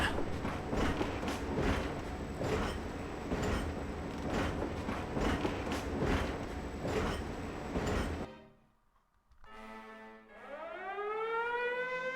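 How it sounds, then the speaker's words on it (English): An armored train in the Valkyria Chronicles video game rolls along with a rhythmic, heavy rumbling clatter, then falls nearly silent before a rising, siren-like whistle swells in. "And back comes the armored train."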